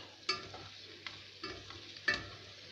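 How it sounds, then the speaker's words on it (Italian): Black garlic pasta is stirred in a pan to release its starch into a creamy sauce, with a few quiet, separate scraping strokes and a faint sizzle beneath, near and without talk. "adesso bisogna mescolare per fare in modo che la pasta rilasci il suo amido e faccia un po' di cremina"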